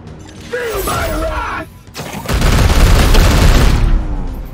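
Gunfire and heavy bursts in the video game Warhammer 40,000: Chaos Gate - Daemonhunters, a loud sustained barrage after a brief lull, with a voice heard early on.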